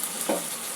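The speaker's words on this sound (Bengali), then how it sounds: "মিনিট 2 আমি কষিয়ে নিয়েছি আলু আর ঝিঙেটা।" Potato and ridge gourd sautéing in a pan, a brief soft sizzle with a small stirring scrape, close and quiet.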